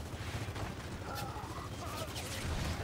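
Shotgun blasts in the Gears of War 4 multiplayer team deathmatch demo, sharp bursts repeating through a busy, loud game mix of gunfire and effects.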